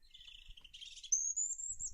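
Lovebirds give a couple of thin, high chirps and then a long, rising whistled tweet, close by and fairly quiet against a silent background.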